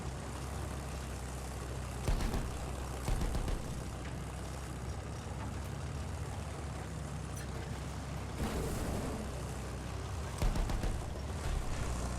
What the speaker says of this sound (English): It's always exciting when you get to be in a tank.